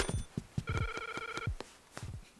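Telephone ringing in the Switch version of Zelda: Link's Awakening: a brief trilling electronic ring among clicking game sound effects, close and fairly quiet.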